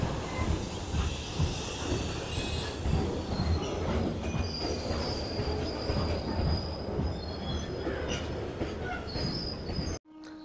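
Electric trains running through a busy Mumbai station platform, wheels rumbling and squealing loudly and continuously for several seconds, with rhythmic clatter over the rails before an abrupt cut at the end.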